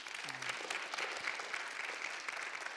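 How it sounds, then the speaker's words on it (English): An audience at a kidney health seminar claps for a speaker named Jasmine, a soft, even patter of applause that sounds somewhat distant and modest in size. "Please give her another round of applause."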